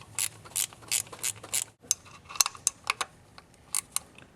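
A ratchet wrench snugs down steel thermostat housing bolts threading into the aluminum head of a Ford Focus: quick, close bursts of clicking with a brief pause midway, then more uneven ratchet strokes.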